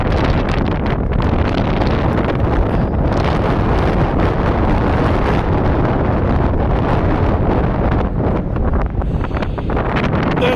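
Strong wind buffets the microphone at Gwithian beach in Cornwall, a dense, steady roar with sea surf blended underneath, loud and unbroken throughout with brief gusty surges.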